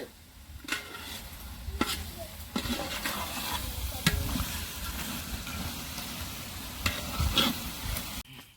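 Fried fish pieces being folded into a simmering fish, crab and prawn curry, with soft sizzling and bubbling broken by irregular stirring and scraping strokes, close by.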